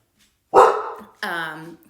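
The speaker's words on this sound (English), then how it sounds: "this is my dog barking in the background" A dog barks twice nearby, a sharp loud bark followed by a slightly longer, tonal one, then quiet.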